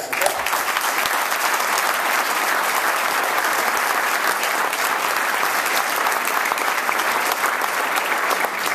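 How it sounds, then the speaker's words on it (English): Sustained, loud applause from the audience at a mayor's inaugural address, honouring the police department; dense, even clapping fills the whole stretch without a break and with no voices on top. "Let's have a round of applause."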